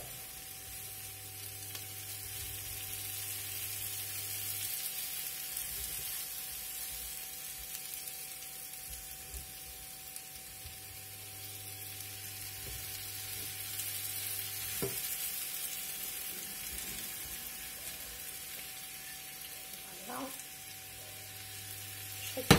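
Meatballs and garden zucchini fry in a pan with a steady, quiet sizzling hiss, a low hum running beneath and a few soft clinks of utensils scattered through.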